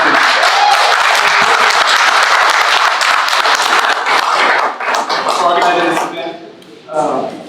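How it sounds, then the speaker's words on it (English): Audience applause at a Democratic primary meet-and-greet in Dimmit County, steady and loud for about six seconds, then fading out as clapping thins and a voice begins to speak. "thank you for a round of applause for stepping up"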